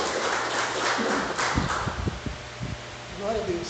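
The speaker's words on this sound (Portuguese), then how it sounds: "Quem está feliz com Jesus pode dar uma salva de palmas para Ele." A church congregation claps in a dense, steady round of applause lasting several seconds, with a voice talking over it.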